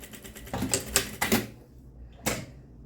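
A sewing machine topstitches the fly of tailored shorts in a few short bursts of rapid stitching, with a pause and then one final quick burst, heard close up.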